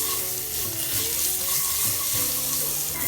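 Minced garlic frying in hot oil with cumin seeds and a slit green chilli, a dense continuous sizzle close up, with faint stirring underneath and no voices.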